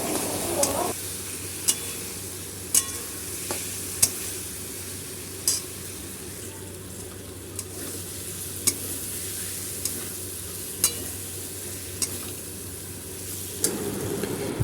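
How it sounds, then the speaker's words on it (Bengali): Fried potatoes sizzle quietly as they are sautéed with spices in a pan, a low constant fry broken by sharp periodic clicks of a spoon against the pan. "আলুটা দিয়ে ভালো করে একটু কষিয়ে নেবো"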